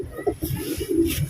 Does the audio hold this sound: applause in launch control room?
no